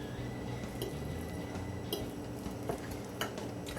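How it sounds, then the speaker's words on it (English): Steady stirring of food in a pot, a continuous low scraping and rustling texture with a few soft clinks of the utensil against the pot, close and fairly quiet throughout. "It's been another 15 minutes, and I'm stirring this around"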